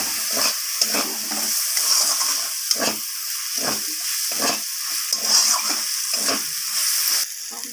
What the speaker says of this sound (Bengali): আদা আর রসুনটাকে দিয়ে আবারও সব মশলার সাথে এইভাবে ভালোভাবে কষিয়ে নেব